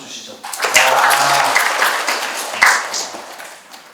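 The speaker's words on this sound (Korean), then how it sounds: "박수 한번 쳐주시죠" An audience claps in a lecture hall, a burst of applause swelling quickly then fading over a few seconds, with a speaker's voice briefly over it.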